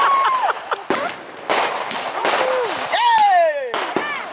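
Fireworks at a 2015 show go off in a series of sharp, close cracks and bangs, with whistling rockets gliding down in pitch between blasts and voices audible in the background.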